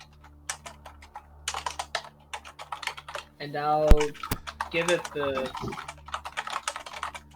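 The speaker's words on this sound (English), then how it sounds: "mechanical keyboard, calm your shit" Fast clacking keystrokes on a mechanical computer keyboard come in bursts during a tabletop game session, close to the microphone and partly under a man's speech.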